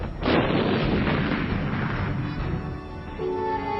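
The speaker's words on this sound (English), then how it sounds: "Teams of troops operated an assembly line of ammunition, sending an endless succession of shells airborne." Artillery bombardment firing shells, a loud close blast followed by a dense rolling rumble of further booms that fades slightly toward the end.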